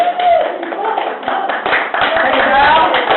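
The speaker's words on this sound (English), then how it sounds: "You have to wait for your applause." An indoor audience applauds with brisk, dense clapping that runs throughout, loud and close, with voices chattering underneath.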